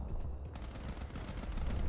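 Rapid bursts of gunfire and explosions from a Space Engineers PVP tournament battle, a dense continuous barrage of crackling shots with a sharp louder onset partway through, no voices.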